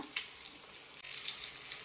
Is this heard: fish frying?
yes